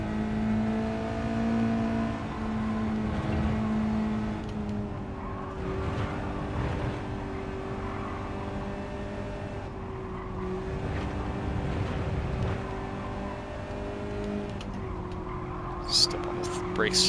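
Race car engine in Gran Turismo 7 played on a Logitech G29 wheel, a steady droning note that eases and rises through a corner with light braking, running continuously with a brief sharp blip near the end.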